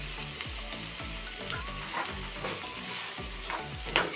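Restaurant-style chicken fry pieces sizzling in a pan while being stirred, with rhythmic scraping strokes about twice a second over a constant crackle, close by and without talk.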